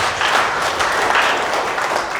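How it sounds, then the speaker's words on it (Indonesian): A church congregation claps together in a sustained round of applause, dense and steady throughout. "Kasih tepuk tangan itu Tuhan."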